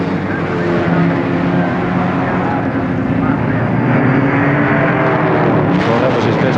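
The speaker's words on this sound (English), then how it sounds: "they really give them full throttle on the largest straightaway at this Warwick Farm circuit, and Goss will no doubt try everything" Touring cars race flat out down the long main straight at Warwick Farm circuit in 1973, a steady loud engine roar holding throughout and swelling slightly toward the end.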